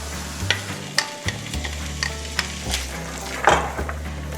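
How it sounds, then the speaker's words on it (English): Carrots are stirred in bubbling melted butter in a pot, with a close sizzle and repeated scraping and clinking of the utensil against the pot, and no talking. "Just stir them around."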